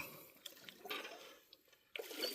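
Water swishes and sloshes in a gold pan during creek prospecting, with soft irregular splashes and trickles at low volume, including a brief louder slosh near the end.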